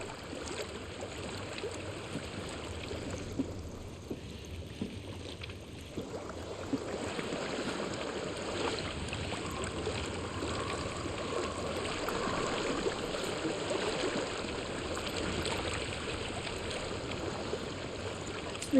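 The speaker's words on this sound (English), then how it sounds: "I hear water. Go to it." A stream flows in the video game Hellblade: Senua's Sacrifice, a steady, soft rushing of water that swells slightly louder over its length, with no voices.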